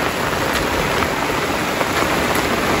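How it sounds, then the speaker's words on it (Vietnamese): Heavy rain pours in a steady, dense roar at the home of a very old woman living alone, loud and continuous throughout with no talk. "Mưa rất là mưa luôn cả nhà."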